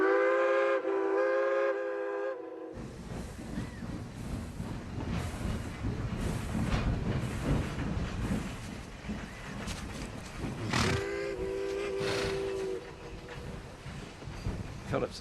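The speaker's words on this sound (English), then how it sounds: "Quick now, while the train pulls in." A train pulls into a station platform, its steam whistle sounding clearly at the start and again near the end, with a heavy rumbling of rail cars rolling in between.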